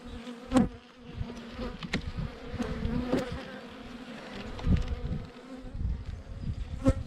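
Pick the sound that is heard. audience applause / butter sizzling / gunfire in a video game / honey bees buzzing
honey bees buzzing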